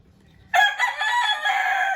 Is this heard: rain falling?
no